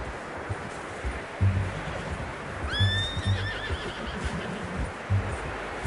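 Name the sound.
horse whinnying, from a video game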